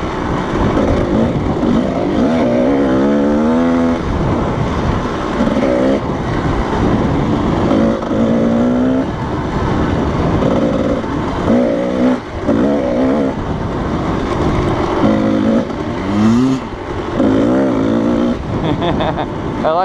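A Kawasaki KDX220 dirt bike engine revs loud and close in the desert, rising and falling repeatedly in short bursts, with voices talking over it at times.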